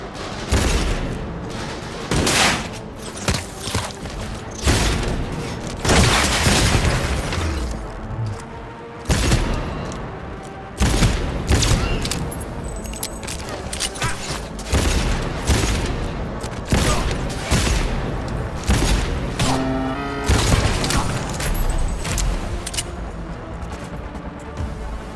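Bursts of gunfire and heavy booms crowd a firefight in Cyberpunk 2077, loud and close, with rapid volleys, sharp single shots and thudding impacts following one another with little rest.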